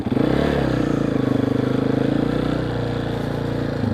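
A completely stock Honda CRF dirt bike with no exhaust fitted idles and revs nearby, giving a loud, steady, rapidly pulsing single-cylinder engine note that drops slightly toward the end, heard alone without talk.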